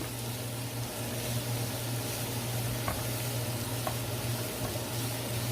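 Sliced potatoes caramelize in a hot pan for scalloped potatoes, with an even, continuous sizzle over a low steady hum and two faint clicks.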